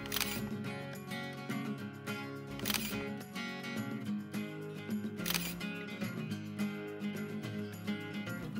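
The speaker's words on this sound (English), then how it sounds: "The shutter will open for a relatively long period of time" A Pentax K100D digital SLR fires its shutter on long exposures, two sharp clicks spaced a few seconds apart over a faint steady background, quiet and close with no speech.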